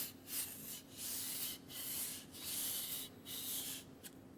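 A kitchen knife is drawn across a whetstone with the blade held too flat, giving about five rhythmic, raspy scraping strokes separated by short pauses, close and quiet.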